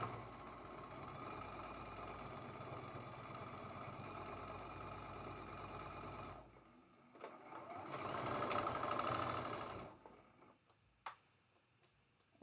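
A domestic sewing machine stitches a quilt block seam, its steady rapid needle clatter running continuously for several seconds, then stopping, resuming briefly with a lighter whir, and ending in a few isolated ticks and clicks.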